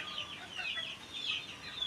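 Faint, close clucking from chickens waiting to be fed in a Filipino backyard, short calls overlapping across the whole moment.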